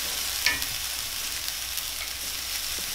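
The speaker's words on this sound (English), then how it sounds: "you want to put your cumin in at this point" Swiss chard and corn sizzle steadily in a hot pan as cumin goes in, with a continuous close frying crackle and a light clink of stirring near the start, with no voices.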